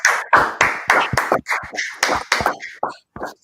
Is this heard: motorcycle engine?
no